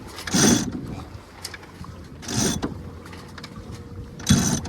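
A jib sheet on a sailboat is hauled in three times, each pull a short rasping, ratcheting burst from the winch and line with quieter breezy gaps between.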